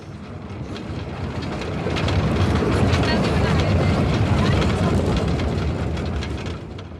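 A toy train runs on a circular route at the Delhi rail transport museum, rolling past closer and then fading with a steady rumble and faint clatter, swelling in the middle and tapering off.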